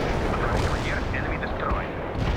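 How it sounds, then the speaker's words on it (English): Artillery strike explosions in the video game World in Conflict, a dense continuous rumble of booming impacts and blasts, loud and near, with battlefield noise layered over it. "Artillery strike. NATO will also use counter-artillery to destroy you."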